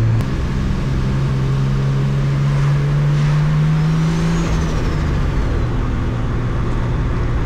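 An old Nissan 280ZX drives along with a steady, close engine drone. A low tone rises gradually and then drops away midway, and no one speaks.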